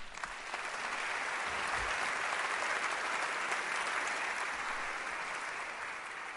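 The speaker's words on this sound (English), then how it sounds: "That's worth a round of applause." Sustained applause from a meeting audience in a concert hall, steady and dense throughout with no voices rising above it.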